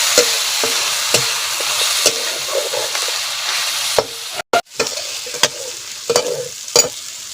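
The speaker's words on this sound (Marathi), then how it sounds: "कांदा भाजून घ्यायचा. याचा कांदा भाजून घ्यायचा." Onion being roasted in a pan for maswadi, with a steady sizzle under sharp intermittent scrapes and clicks of a spoon against the pan, loud and close.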